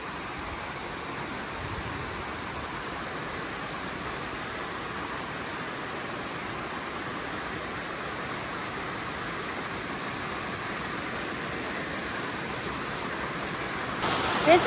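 A creek flows behind a riverside cabin, making a steady, even rush of running water that stays constant throughout, with a faint knock near the end.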